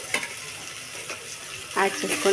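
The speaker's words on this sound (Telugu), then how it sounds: "ఇలా కొంచెం వేగనివ్వండి." Food fries in a pan while biryani rice is prepared, a soft continuous sizzle close by with a few light stirring knocks and a brief clatter near the end.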